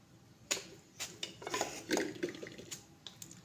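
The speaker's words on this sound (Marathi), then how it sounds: "आणि वांग असं कापून घेणार आहोत आपण." A knife cuts a brinjal for stuffed masala curry, giving a series of sharp, close taps and clicks against a board at irregular intervals, with faint scraping between them.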